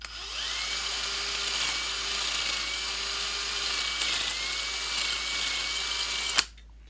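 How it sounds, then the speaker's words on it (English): A power drill fitted with a 3/16-inch bit whirs steadily for several seconds at close range as it bores out a hole, its motor pitch shifting slightly, then stops abruptly. "So what I'm going to do is use a 3/16 inch drill bit and"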